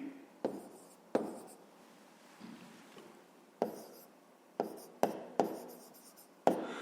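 Pen or marker strokes scratching across paper while a fifth-grade math problem about a boat's travel time is worked out, a run of short writing bursts with sharp taps, close and fairly quiet, no talk.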